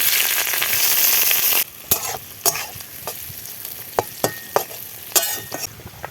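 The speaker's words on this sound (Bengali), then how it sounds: "দুটো তেজপাতা, কুচনো পেঁয়াজ আর চেরা কাঁচা লঙ্কা, এগুলোও দিয়ে দিচ্ছি।" Bay leaves, chopped onion and slit green chillies hit hot oil with a loud, dense sizzle that cuts off abruptly, followed by sparse scraping stirs and soft crackles; no voices.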